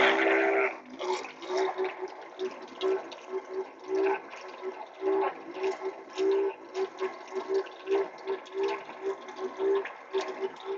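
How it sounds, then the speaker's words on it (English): A van's water pump runs water from a tap, giving a pulsing, uneven hum that surges and drops in short bursts over the splash of running water, close and moderately loud. "This water pump isn't as good as my other one."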